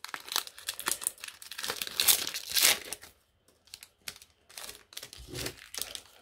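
Crinkling of a Pokémon card booster pack's paper wrapper, a run of close, sharp crackles and rustles in irregular bursts with brief pauses between, no talking over it.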